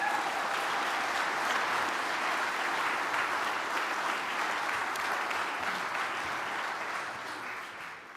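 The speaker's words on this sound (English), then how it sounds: "Can we give them another round of applause, please?" A live audience at a service claps steadily after a performance, a dense, sustained wash of applause from a large crowd that holds level and then tapers slightly at the end.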